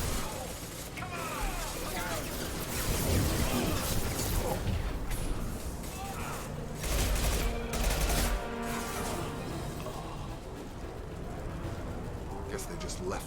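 Gunfire in the video game Mass Effect 2, with Blue Suns and Orchard mercenaries shooting in the streets: bursts of shots and crashes among a busy, mid-level wash of game sound.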